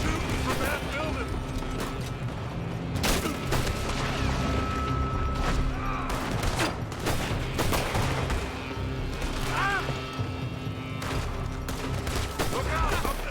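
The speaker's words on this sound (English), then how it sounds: "They're shooting from that building." Gunfire from a building in Red Dead Redemption 2, with a continuous fusillade of rifle shots and booming reports at mid distance over a steady din, with voices heard beneath.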